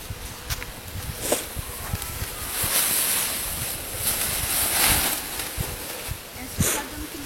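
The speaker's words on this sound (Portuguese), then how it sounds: "Está muito vento." Strong outdoor wind at a solar balloon launch buffets the microphone in rumbling gusts that swell and ease over several seconds, with faint voices in the background.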